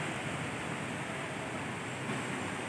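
Water poured over rocky ground at a treasure-hunting dig site makes a steady, unbroken rushing wash with no pauses, moderately loud and close, with no voices over it.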